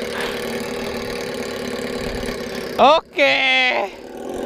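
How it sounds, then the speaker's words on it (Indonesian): Honda Scoopy scooter engine idling with a steady, even drone close by, briefly interrupted by a short spoken word near the end. "kita akan jalan aja pakai Scoopy racing nih guys"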